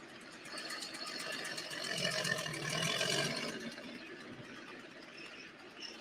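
A tractor-pulling engine on a John Deere at a pulling event drones steadily at a distance, swelling louder in the middle before easing off slightly, with a rapid pulsing chug.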